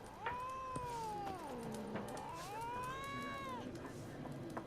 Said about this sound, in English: It took me a second to realize that was a cat, like, in the game, and not one of my cats.